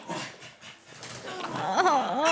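A dog whimpers close by, with thin, rising and falling whining cries growing louder toward the end, over some low background noise and possible voices.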